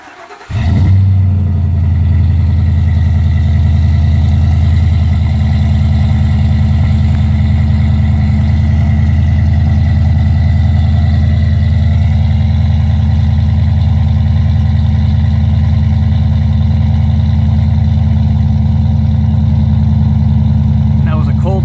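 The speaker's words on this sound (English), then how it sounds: "It's definitely louder than the factory exhaust, but it's not annoying at idle here." A Ford F250 Super Duty 6.2 V8 with a Dynomax aftermarket exhaust cranks and settles into a steady, deep, throaty idle with a loud exhaust rumble that holds evenly throughout.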